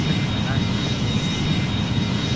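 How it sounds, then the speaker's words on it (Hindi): Jet engine roar of a British Airways Boeing 717 on its takeoff run in the flight game Airline Commander, a loud, steady broadband rush throughout. "हम लोग फ्लाइट को टेक ऑफ कर लेंगे।"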